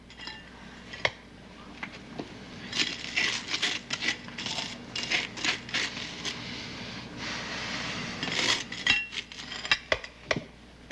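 A knife and dishes clink and scrape at breakfast while bread is buttered, with irregular close taps, clatters and metallic chinks scattered throughout, a few louder knocks standing out, and no talking.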